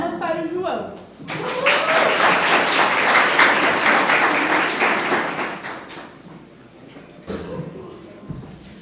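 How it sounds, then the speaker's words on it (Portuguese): A room full of people at a special church youth event in Tatuapé breaks into applause for a prize winner, a dense burst of clapping lasting several seconds before fading into speech. "Palmas para o João"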